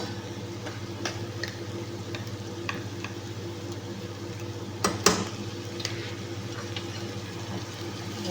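Basmati rice sizzles quietly in a pan cooked without oil, with a few soft clicks and scrapes of stirring and one louder clatter midway, steady and close.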